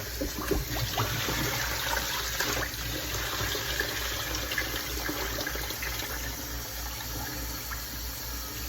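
Water being poured out of a cooking pot into a sink, a steady close trickling and splashing stream lasting several seconds without speech.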